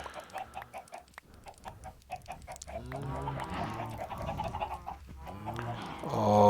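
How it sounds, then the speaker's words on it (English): Chickens in Minecraft cluck in repeated short bursts, several birds overlapping in a busy farmyard chorus that grows fuller and louder toward the end, with no voices. "Happy chickens everywhere"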